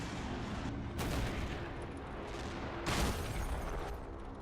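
Hummel self-propelled artillery in Men of War: Assault Squad 2, two heavy booming shots about two seconds apart over a dense, noisy battle din, fairly distant and muffled.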